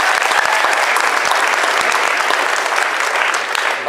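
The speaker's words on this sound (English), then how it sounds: "Yeah, we can clap for that." A crowd at a Midland Adventist Academy eighth-grade graduation breaks into loud, close applause. The clapping is dense and continuous, with individual claps standing out throughout the short burst.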